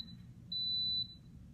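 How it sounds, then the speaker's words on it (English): An Instant Pot pressure canner with its regulator closed, processing chicken soup, gives a single steady high-pitched electronic beep lasting about half a second over a quiet low hum, close and clear. "that beep means that it's now processing"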